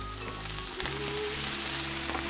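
Onions browning in a pan with apples and plums about to go in, giving a steady, close, loud sizzle and crackle that continues throughout with no talk.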